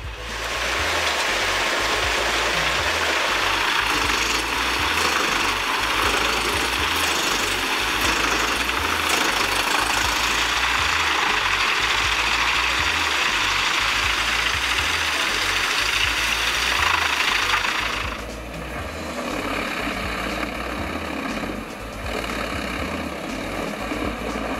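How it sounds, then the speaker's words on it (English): A tractor-driven Heinz HEM 583 wood chipper clearing forest, a loud continuous engine roar with harsh grinding and shredding of wood that drops away near the end, leaving a lower idling drone. "tractor, combined with the Hens HEM 583 wood chipper, plays a key role in land management, quickly clearing forests and converting biomass into valuable resources"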